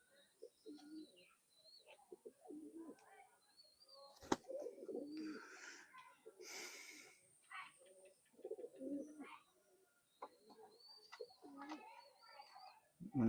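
An old male pigeon of the Chot breed from Khulna coos in low, repeated rolling phrases close by, with other birds chirping faintly, a few sharp knocks and bits of quiet talk.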